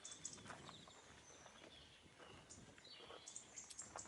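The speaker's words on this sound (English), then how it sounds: "You can hear the birds in the background." Faint birdsong carries from outside a parked vehicle, scattered chirps and short high calls drifting in over a soft, hissy background, distant and intermittent.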